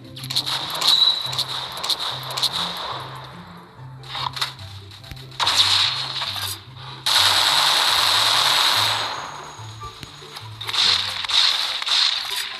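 Rapid automatic gunfire from World War Heroes, a World War shooter game, rattles in loud bursts over a looping low music track, with pauses between volleys and one long sustained stretch of fire.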